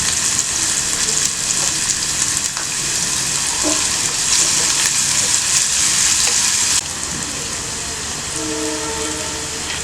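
Onion, green chili and curry leaves fry in a hot pan with steady, loud sizzling and crackling that carries on throughout, with a few faint clinks and no talking.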